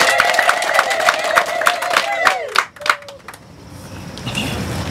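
Wedding guests at a church ceremony for Kelvin and Catherine burst into brisk, crowded clapping mixed with raised, cheering voices, which fades abruptly into quiet room noise.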